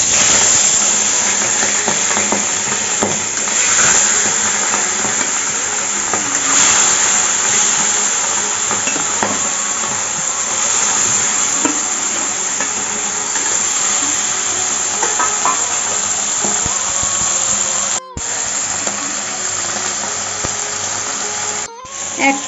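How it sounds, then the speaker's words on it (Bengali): Hilsa fish frying lightly in hot mustard oil in a heated wok gives a loud, steady, dense sizzle that hisses without a break for the whole stretch, with no one talking. "এখন ইলিশ মাছটা হালকা করে ভেজে নেব।"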